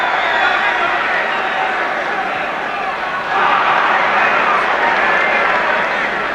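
A football crowd at a Chelsea versus QPR match roars and murmurs steadily, swelling slightly halfway through, a dense continuous wash of noise from a packed stadium.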